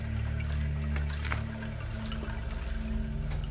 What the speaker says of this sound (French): tu entends que quelques gouttes qui tombent